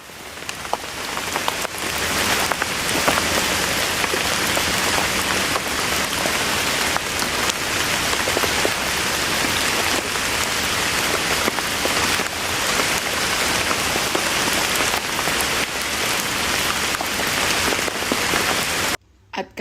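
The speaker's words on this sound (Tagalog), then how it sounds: "kahit maulan ang panahon, go lang tayo ng go" Heavy rain pours steadily onto surfaces outdoors during a family birthday celebration in Australia, a dense, loud, continuous patter with scattered louder drops, and no voices.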